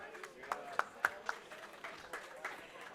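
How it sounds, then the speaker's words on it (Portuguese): Sparse, scattered hand claps from a panel audience at an investment event, a few sharp claps thinning out quickly, moderately distant under a speaker's voice. "Os aplausos de vocês."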